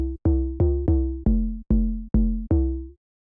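Monolite synth bass with extra harmonics added, playing seven punchy plucked notes in a choppy, evenly spaced rhythm, each note decaying quickly with a bright harmonic buzz, loud and alone.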